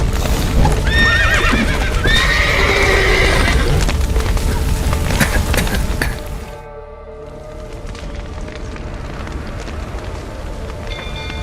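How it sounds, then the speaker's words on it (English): Horses gallop and neigh in a burning village in The Witcher 3, with dense clip-clop hoofbeats and loud whinnies over crackling fire and rumble, then the clatter thins into a quieter churning background. "The horses!"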